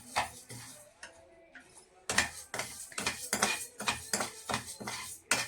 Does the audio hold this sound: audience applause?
no